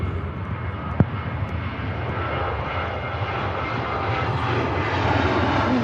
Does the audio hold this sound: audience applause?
no